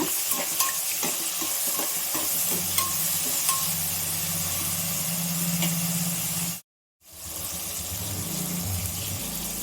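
Tomatoes and other ingredients frying in a pan for tomato bath, a close steady sizzle with scattered stirring clicks, briefly cutting out to silence before the hiss resumes.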